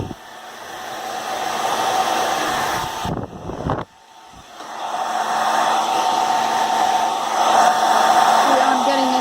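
A hair dryer blows hard to dry wet paint, a loud steady roaring whoosh that cuts out briefly, then returns and keeps running strongly.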